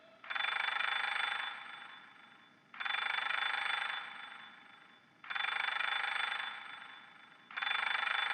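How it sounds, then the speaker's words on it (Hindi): A mobile phone alarm rings loudly and alone, in three and a half long repeating bursts of a steady electronic ringing tone, each fading slightly before a short gap, heard in a girls' hostel. "मोबाइल का अलार्म"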